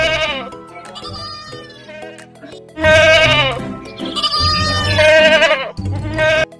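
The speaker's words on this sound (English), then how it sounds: "G, G for goat." A goat bleats in several long, wavering calls separated by short pauses, loud and close, with a musical backing underneath and no talking.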